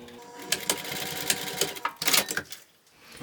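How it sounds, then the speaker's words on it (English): Sewing machine stitching a handmade Tessa bag, a rapid mechanical whirring run broken by brief pauses and clicks, close and moderately loud. "I just go ahead and sew down to attach that to itself."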